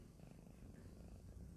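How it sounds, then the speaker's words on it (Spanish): Steady, continuous purring from a cat having its face gently cleaned, close and fairly quiet, a low rumbling texture running unbroken throughout with no talking. "No sé si se escucha, pero ella ya está ronroneando."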